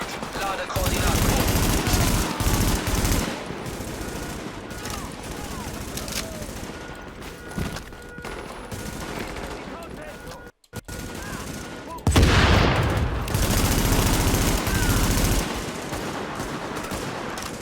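Bursts of small arms gunfire in The Division, a third-person shooter set in a city, crackling loudly in rapid volleys under game voice lines announcing that the squad is under fire, with a brief silent gap midway.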